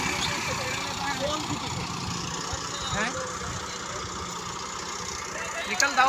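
A tractor stuck in a roadside drain rumbles steadily with its engine running, a coarse, continuous noise at close range, while people talk around it.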